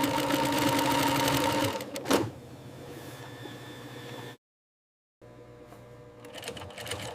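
Sewing machine stitching a blind hem on leather, a fast rhythmic mechanical whir that stops briefly, falls silent for about a second, then starts running again.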